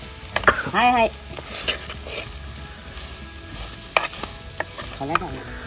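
Vajri being stirred into masala in a pan on a clay wood-fired stove, with soft scraping and a faint sizzle, a few sharper utensil clinks, and a voice briefly speaking near the start.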